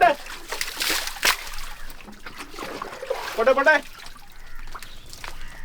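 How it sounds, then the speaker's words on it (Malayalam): Water trickles and splashes back into a dug fishing hole in uneven bursts of dribbling and splattering, close by, with a voice heard intermittently alongside. "നമ്മള് അടിച്ചു കളഞ്ഞ വെള്ളം തിരിച്ചു വന്നോണ്ടിരിക്കുകയാണ്"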